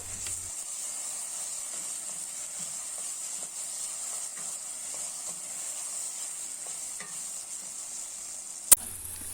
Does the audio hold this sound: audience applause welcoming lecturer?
no